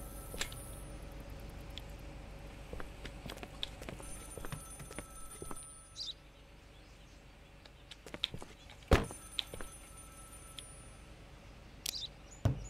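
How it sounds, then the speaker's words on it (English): A telephone rings faintly in the video game Contraband Police, a quiet ringing tone set among scattered clicks, taps and light clatter, with no talking. "Answer the phone."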